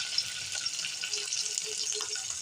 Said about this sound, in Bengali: এখানে আমি পেঁয়াজ বাটাটা দিয়ে নিলাম